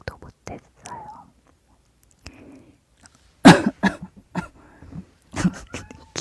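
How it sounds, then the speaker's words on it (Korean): A woman with a cold and a swollen throat coughs several times in short, sharp bursts, close to the microphone, with some quiet whispered speech and breathy noises between the coughs. "기침이 자꾸 나오네."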